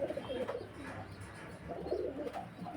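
A pigeon coos in soft, low, throaty phrases close by, with a faint rustling background and no talk.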